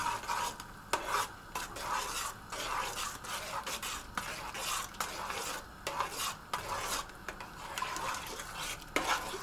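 Mussel chowder comes to the boil in a pot while a spoon stirs it. Repeated scraping and clinking strokes follow one another in an uneven rhythm, up close, over a faint bubbling sizzle, with no speech.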